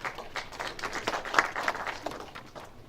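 A seminar audience gives moderate, fairly quiet applause to welcome the next presenter at a livestock manure odor seminar, scattered claps swelling in the middle and thinning toward the end.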